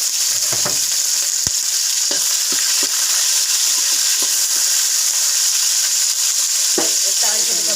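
Green chili and curry leaves sizzle steadily in hot oil during tempering for brinjal gotsu, a constant close frying hiss with a few brief stirring clinks, and a voice speaks faintly at times.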